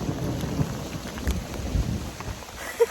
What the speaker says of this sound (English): I'm soaking wet and I'm out in the middle of a thunderstorm